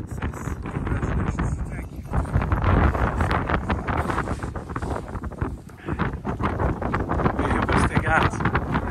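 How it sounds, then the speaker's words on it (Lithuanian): Strong gusting wind buffets the microphone on a summit in the Tatra mountains during a blizzard, a loud, continuous rumbling roar with rough surges and no clear pauses. "Vėjukas tai geras."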